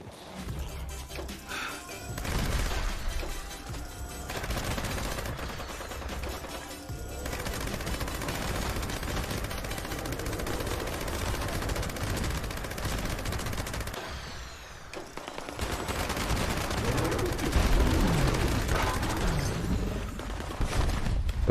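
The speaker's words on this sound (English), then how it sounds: "You use heavy gunner 50 cal explosive, you feel you spit out ammo like candy." A heavy .50 cal machine gun firing explosive rounds in Fallout 76, with sustained rapid bursts and crackling impacts that continue almost without pause, a brief lull, then more heavy fire.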